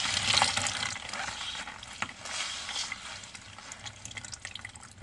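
Water splashes and sloshes as a shirt is rinsed in an ultralight washing bag, with steady close swishing and some rubbing and squeezing noises and no speech.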